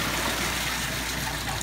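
Steady broadband rushing of water pouring out with force, continuous and fairly close, with no voices.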